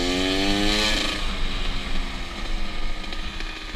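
A motorcycle engine during a wheelie, loud and close, rising in pitch at first, then holding a rough, steady drone with small throttle changes.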